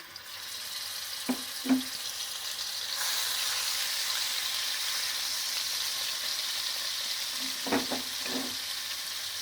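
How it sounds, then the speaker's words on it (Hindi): Garlic and ginger frying lightly in a karahi for mutton karahi: a steady soft sizzle, with a few clinks of a utensil against the pan before and near the end. "अब इसमें मैं लहसुन अदरक डालकर हल्का सा फ्राई करूँगी"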